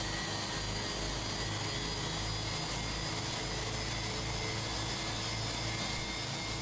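Steady roar of Fenix A320 jet engines running in Microsoft Flight Simulator, heard from outside the British Airways airliner at Heathrow. A continuous, even, broadband drone with a low hum, loud and unbroken throughout, with no talking.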